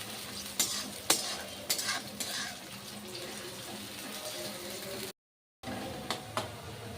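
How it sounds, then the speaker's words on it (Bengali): Onions are stirred in a pan as they fry toward brown, a soft steady sizzle broken by sharp clinks and scrapes of a spoon against the metal, with a brief silent cut near the end. "পেঁয়াজটা ভালো করে নাড়ব। একটু লাল লাল হবে পেঁয়াজটা।"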